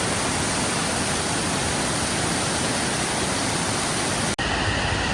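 Falls Creek pours into the Snake River at a roadside spot in Grand Teton, a loud, steady roar of rushing water that fills the scene without a break.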